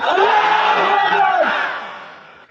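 A large crowd at an Islamic religious gathering (mahfil) in Sirajganj roars back a takbir slogan in unison, a loud, sustained mass of voices that swells and then fades out over a couple of seconds.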